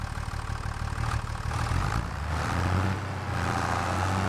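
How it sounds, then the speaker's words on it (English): A vehicle engine idling in the Farming Simulator 25 video game, a steady low rumbling drone that shifts slightly in pitch partway through, heard alone without talking. "Listen to that engine though."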